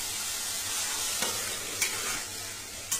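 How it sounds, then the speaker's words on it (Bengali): Water poured into a hot pan over a ground black mustard and green chilli paste for a hilsa fish curry with potato and aubergine bursts into a loud, steady sizzle, with a few sharp spattering pops near the end. "এবারে জল দিয়ে দেব।"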